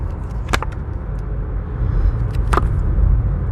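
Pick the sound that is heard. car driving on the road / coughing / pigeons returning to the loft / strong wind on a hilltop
car driving on the road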